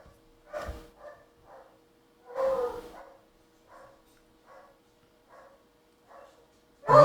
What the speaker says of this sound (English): if you hear my dogs going nuts, that's what's happening here.